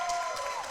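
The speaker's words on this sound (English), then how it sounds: "I see the fans cheering." Distant, faint crowd of fans cheering and applauding at a collegiate esports grand final trophy lift, a steady broad roar with no single voice standing out.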